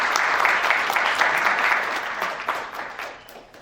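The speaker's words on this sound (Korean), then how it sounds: "한 번만 더 박수 부탁드리겠습니다" Audience applause at an M&A forum awards ceremony, a dense burst of clapping that stays strong at first and then fades toward the end.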